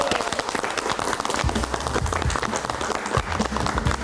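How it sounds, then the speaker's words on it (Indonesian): Studio audience clapping on a late-night Indonesian live comedy show, a busy, continuous patter of hands with some low thumps and rumble mixed in. "Boleh tepuk tangannya."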